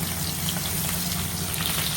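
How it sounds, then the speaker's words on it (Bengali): Turmeric- and salt-rubbed fish fries in hot oil in a pan, a dense, continuous sizzle, close and loud with no voices. "ভাজা দেব।"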